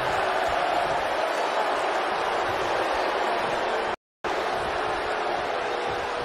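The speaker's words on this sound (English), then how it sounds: "if you want to know the strength of WWE here in Japan, just listen to this Tokyo crowd" Arena crowd from a Tokyo event in the WWE 2K20 wrestling video game, a dense, steady roar of cheering that fills the whole clip, cut by a brief dropout near the end.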